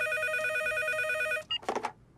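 A telephone rings at home with a steady electronic trill lasting over a second, then stops, followed by a brief clatter as the handset is picked up.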